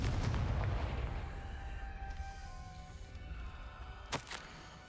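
A Confringo blasting spell explodes in the video game Hogwarts Legacy. It sounds like a deep, booming blast that rumbles and fades, with a sharp pop near the end.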